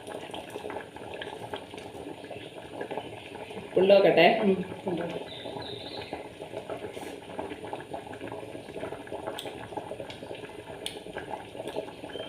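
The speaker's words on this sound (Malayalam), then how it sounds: "നല്ലോണം തിളച്ചിട്ടുണ്ട്. നല്ലോണം തിളച്ച് നല്ല തിള കേട്ടാ" Kerala-style avoli fish curry with ground coconut boiling vigorously in a pot: continuous close bubbling and gurgling, with a louder surge partway through and a brief spoken word.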